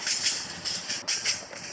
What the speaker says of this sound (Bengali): এখন আমরা আস্তে করে ট্রেন ছাড়ছি